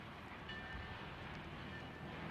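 A train carrying a refrigerated boxcar northbound rumbles past in a cartoon, giving a steady, broad rolling roar that stays fairly even throughout.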